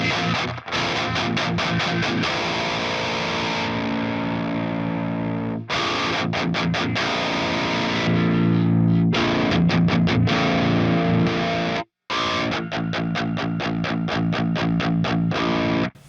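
Electric guitar played through an Airis Effects Nebula Advanced Overdrive pedal, thick distorted palm-muted chugs and sustained chords in tight rhythmic bursts, loud and close, with one brief silent break.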